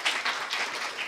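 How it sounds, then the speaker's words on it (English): An audience gives a round of applause for a group at a youth accountability convention, a steady wash of clapping from a crowd, fairly soft and even for about a second, with no talk over it. "Please give them a proper round of applause."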